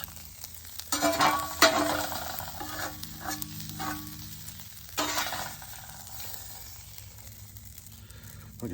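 Steak fajitas sizzle on a hot discada while a metal spatula scrapes across the pan, with bursts of scraping and stirring over a softer ongoing hiss, all close by.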